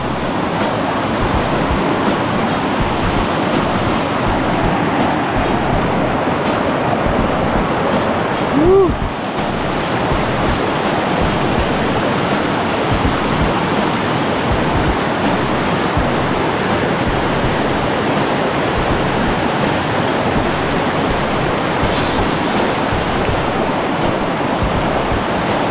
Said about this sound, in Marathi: वा, पाण्याला भरपूर फोर्स आहे